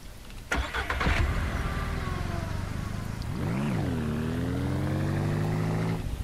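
Car engine in the farming game Ranch Simulator starting with a few sharp clicks, then revving up and settling into a steady mid-pitched drone as the vehicle drives off, fairly loud and close, with no talk.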